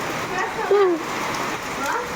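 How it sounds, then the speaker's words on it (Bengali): Steady rain falls in windy weather as an even broadband wash, close by, with a faint voice briefly underneath. "বৃষ্টি পড়ছে দেখো একটু"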